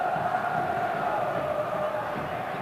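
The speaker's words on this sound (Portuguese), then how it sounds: "E a torcida volta a pedir o Basílio." A Santos football crowd chants in a stadium during a 2004 Brazilian league match against Figueirense, a continuous distant roar of many voices with a faint rhythmic pulse.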